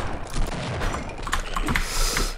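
Shotgun fire in the Half-Life mod Visitors: a dense stretch of rapid, loud gun blasts crackling one after another across the whole moment, with no talk over it.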